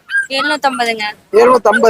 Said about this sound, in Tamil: இப்போ நாய்க்குட்டி ஒன்று கொண்டாந்துருக்கீங்க